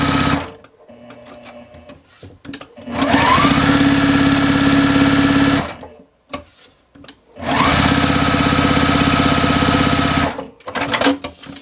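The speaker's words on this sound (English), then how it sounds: "now I'm going to stitch all the way around on all 4 sides" A sewing machine stitches all four sides of an improv half-square-triangle quilt block in two long, loud, steady runs of several seconds each, separated by short pauses and brief handling sounds.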